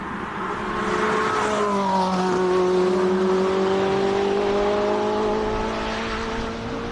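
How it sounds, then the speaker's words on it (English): A 2012 Ferrari 458 with its naturally aspirated V8 climbs a hill climb course, its engine note rising in steady harmonic pitch as it accelerates, loud and continuous for several seconds with no talk. "Classic Ferrari 2012 458."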